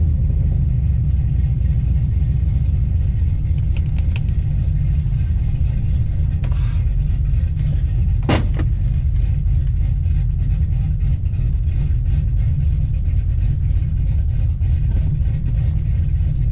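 A Ford F-150 pickup engine, freshly rebuilt, idles in a steady, deep rumble close by, unchanging throughout, with a brief click partway through.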